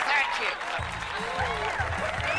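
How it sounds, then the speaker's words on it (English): Applause from an audience swells and fades briefly as a voice speaks over it, with scattered clapping under talk in a TV drama scene. "Give yourself a big round of applause."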